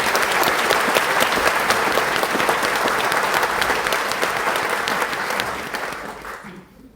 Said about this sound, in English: Let's give the band another big round of applause.